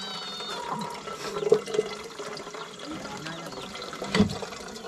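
Hot water pouring into a cup for coffee, a continuous liquid splash and fill with a couple of brief clinks, heard close over a faint room background.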